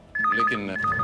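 A phone rings during a Hindi crime drama scene, a repeating two-tone electronic ringtone with pulsing chirps, close and loud, with a voice speaking over it.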